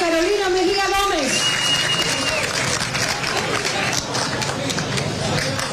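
Applause and crowd noise at a political rally, with a dense wash of clapping and babble that starts after a brief loud announcer-style voice and carries on throughout.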